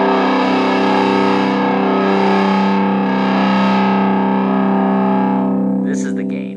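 Electric guitar through a VHT Special 6 Ultra tube amp with the gain turned up: a loud, heavily distorted sustained chord ringing for several seconds with thick harmonics, then fading, a few higher scratchy noises at the end.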